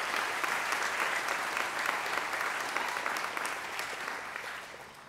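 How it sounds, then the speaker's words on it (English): An audience at a matriculation ceremony applauds in a large room, a dense, steady wash of clapping from many hands that tapers slightly toward the end. "So I want to give yourself a round of applause."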